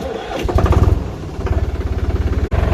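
A tractor's diesel engine in a fig orchard cranks and catches, then runs with a loud, rhythmic chugging pulse close by.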